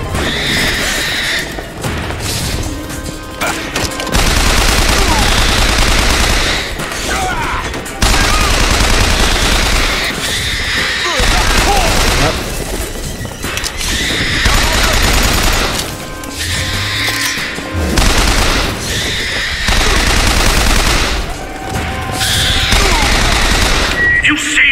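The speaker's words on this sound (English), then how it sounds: "Machine gun." Machine gun fire in Bioshock Infinite comes in loud, sustained bursts separated by brief pauses, with heavy booms and a voice talking over the combat at times.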